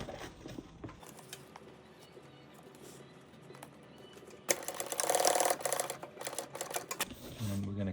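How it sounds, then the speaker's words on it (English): A sewing machine stitches a fabric clog-style tool pouch for bikepacking, its quiet mechanical whir rising into a busier rattling run midway, with a person talking over it. "And then we take this piece and attach it onto the heel. We're having the yellow on the outside of the bag. And we're going to sew this way."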